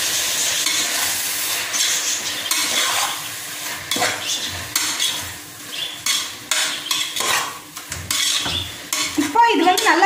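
Tomatoes and green chillies are stirred and fried in a pan for mushroom biryani, a busy sizzle with metal spoon clinks and scrapes against the vessel, near and fairly loud, no voices.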